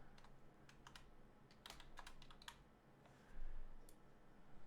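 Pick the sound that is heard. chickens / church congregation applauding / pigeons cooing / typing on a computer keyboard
typing on a computer keyboard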